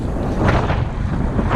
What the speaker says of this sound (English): See, we're paddling against the wind.